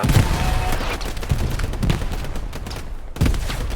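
Dense bursts of machine-gun and rifle fire rattle through a Hell Let Loose battle, with loud overlapping volleys and a brief lull just before the shooting surges again.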